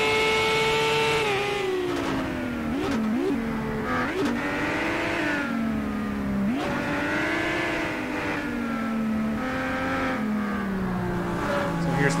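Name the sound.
race car engine on a lap of Shanghai circuit, racing video game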